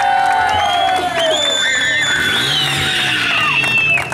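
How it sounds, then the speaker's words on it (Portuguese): A crowd cheers, whistles and whoops loudly and steadily at a birthday celebration for the guest of honor, with shrill high whistles and shouts sliding over a continuous roar throughout. "Uma salva de palmas para a nossa homenageada."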